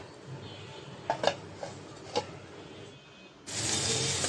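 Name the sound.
stirring beef liver in a cooking pot, covering with lid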